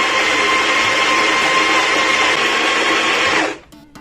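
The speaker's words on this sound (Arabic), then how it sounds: "هنطحن القهوة." An electric grinder grinds coffee in a loud, steady high whine for about three and a half seconds, then cuts off abruptly and winds down.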